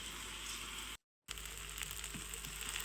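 Rice sizzles steadily in a little hot oil in a pan, a dense continuous frying hiss with a brief silent gap partway through and faint clinks near the end.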